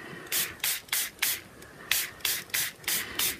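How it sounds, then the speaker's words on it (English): Short bursts of water spray hitting Brusho colour powder, about nine quick hisses in an uneven rhythm, close and fairly soft, with nothing else heard. "I'm going to change the direction of my spray here"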